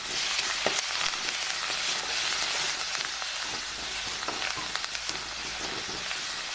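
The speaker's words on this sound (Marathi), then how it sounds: "आता हे हलवून घेतो" Turmeric, red chilli powder and coriander frying in hot oil in a pan, a steady close sizzle with occasional soft scrapes of stirring throughout, no talking.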